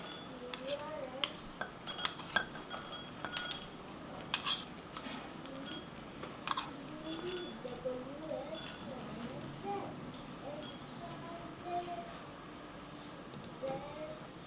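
Roasted cashew and almond pieces go into a glass bowl while making a chocolate dessert, producing light, scattered clicks and taps against the glass over a quiet room with soft background talk.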